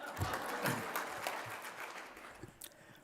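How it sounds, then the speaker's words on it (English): Scattered applause from a conference audience, fairly soft and uneven, with a few claps standing out near the end. "Now you can applaud."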